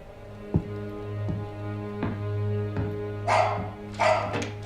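Dog barking inside a video game, several separate barks spaced irregularly over a steady low hum and music-like tones, with a couple of louder, brighter barks near the end.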